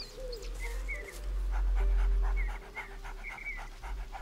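A dog in the video game A Plague Tale: Innocence pants in quick rhythmic breaths, close and clear, alongside a low rumble and faint bird calls in the game's ambience.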